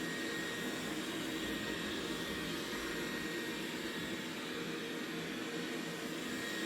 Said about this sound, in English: did I tell it to vacuum the floors too?